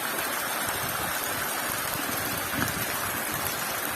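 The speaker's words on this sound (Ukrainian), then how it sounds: "Дощ вже цілу неділю падає" Rain falls steadily during a week-long spell in the Lviv region. A soft, continuous patter and hiss stays at an even, fairly quiet level throughout.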